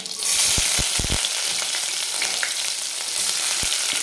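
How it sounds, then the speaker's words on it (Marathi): Chopped onion hitting hot oil with cumin for a dry cowpea and potato bhaji, a loud steady sizzle with a few stirring taps, no talking. "एक कांदा आपण कट करून घेतलेला आहे तो कांदा टाकणार आहे"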